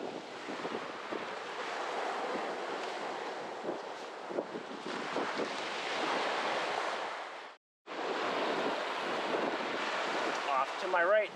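Ocean waves wash steadily onto Mexico Beach on the northern Florida coast, a continuous broad rush of surf with heavy wind buffeting the microphone, cut by a brief dropout near the end.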